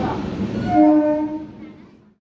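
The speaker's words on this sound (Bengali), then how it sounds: "আমার ট্রেন এসে গেছে।" A train pulls into platform 1 at Krishnanagar station, with a loud tonal horn-like blast swelling up and then fading over about two seconds against rumbling rail noise.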